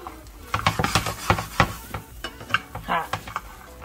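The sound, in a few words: frying food sizzling in a pan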